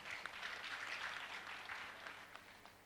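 Applause from a seated audience at a panel session of an EduTech startup conference in Abuja, a steady wash of many hands clapping at moderate distance, fairly faint and continuous, easing slightly toward the end.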